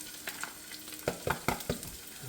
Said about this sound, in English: in go the onions